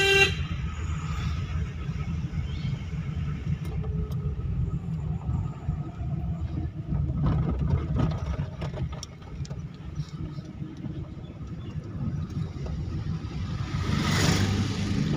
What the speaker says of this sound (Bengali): দেখুন কীরকমভাবে দাদা রোডের গাড়ি চালাচ্ছে